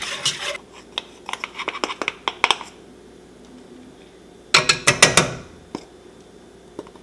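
Spoon stirring cornstarch into a custard mixture in a pot, quick clusters of scraping strokes against the pan, close and fairly crisp, with quiet gaps between bursts.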